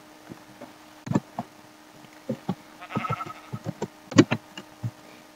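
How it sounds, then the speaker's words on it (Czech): Minecraft sheep bleating in a video game, several short bleats scattered irregularly, some overlapping, with faint buzzing in the background and no talk. "tady máme ovečku, kterou bychom si mohli přitáhnout"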